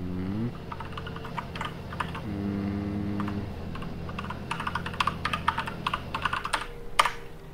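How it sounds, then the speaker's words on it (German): Loud typing on a computer keyboard, keys clattering in quick irregular bursts that grow busier toward the end, close by, with a low hum beneath. "Sie tippen aber laut."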